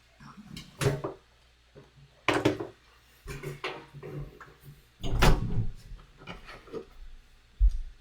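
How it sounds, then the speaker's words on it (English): Door handling at home with the lock being turned: a few scattered knocks, rubs and clicks spread across several seconds, moderately close, with quiet gaps between them and no speech. "Let me go make sure I lock the door."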